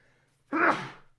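A single person sneezes once, close and fairly loud, a short sharp burst that fades out over about half a second.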